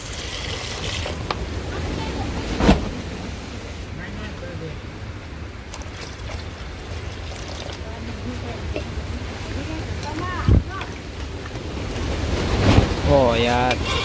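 Strong wind blowing outdoors during open-air cooking of a prawn dish: a continuous low rumbling buffet across the microphone, swelling toward the end, with a few sharp knocks and clatters.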